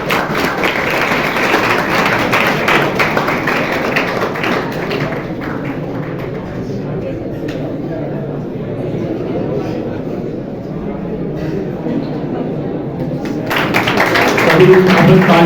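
An audience at an Uttarakhand Foundation Day ceremony claps to welcome a guest. The applause is dense and continuous, fades a little partway through, then swells again near the end, with a voice speaking over it.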